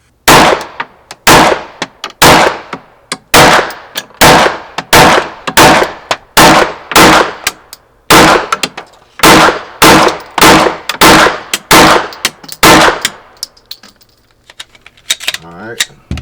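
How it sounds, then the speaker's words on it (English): An Xr920 shotgun fitted with a Radian muzzle device fires at a paper target in a long string of loud, sharp, evenly spaced blasts, close by and alone, before the shooting stops near the end. "I got the Xr920 first. We ain't got time to switch out papers, so I'm gonna shoot in, it's 3 different guns"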